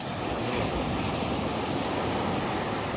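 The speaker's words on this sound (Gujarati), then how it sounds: "મોજા બહુ છે મને જવામાં બીક લાગે" Sea waves break continuously on a beach during a seaside fishing outing, a loud, steady surf roar with wind buffeting the microphone and no voices.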